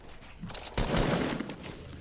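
Burst of rapid gunfire in the video game Fortnite, a sudden loud volley of shots that continues in a dense cluster after a quieter lead-in.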